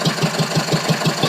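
An old car engine idles while warming up, a loud, even, rapidly pulsing chug heard close and alone.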